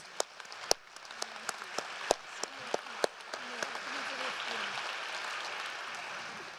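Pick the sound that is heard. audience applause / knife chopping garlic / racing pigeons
audience applause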